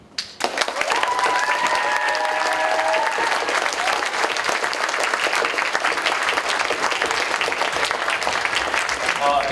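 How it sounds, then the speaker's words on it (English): Audience applause fills a startup pitch event after a game app presentation, sustained and dense throughout, with brief tonal sounds and faint voices near the start. "So I'd like to hear applause if you would invest in our"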